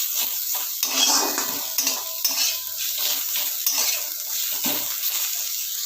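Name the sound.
stirring fried mustard greens with sugar in a pan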